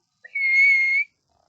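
A single sustained whistle note, about a second long and fairly loud, like a person imitating a referee's whistle, with silence before and after.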